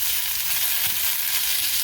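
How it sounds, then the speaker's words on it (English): Chopped onions sautéing in a pan for a Kerala-style egg curry, a steady dense sizzle with faint crackles, close and even throughout, no voices. "So the onion is sauteing nicely."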